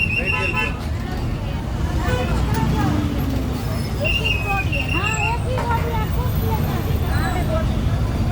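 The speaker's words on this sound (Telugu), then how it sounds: "ఇప్పుడు మెల్లగా కదులుతుంది బస్సు అయితే" A bus creeps slowly through a crowded vegetable market jammed with stalled vehicles, its engine rumble steady beneath constant crowd babble and street hubbub, with occasional horn-like tones and a person talking nearby.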